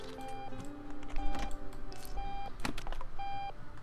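Alarm in Octodad: My Wonderful Wedding, a series of electronic beeping tones in short repeated bursts, mixed with clicks and taps of other game sounds at moderate level.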